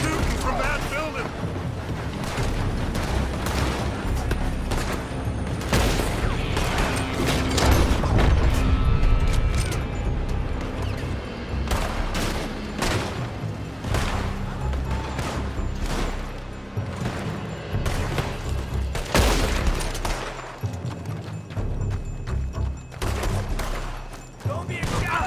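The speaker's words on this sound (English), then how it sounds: "They're shooting from that building!" Shootout gunfire in Red Dead Redemption 2, with sustained volleys of overlapping shots, sharp cracks and occasional booms, loud and dense throughout, mixed with voices shouting amid the battle.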